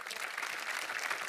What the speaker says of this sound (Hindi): पहले जोरदार ताली हो जाए अपार के लिए।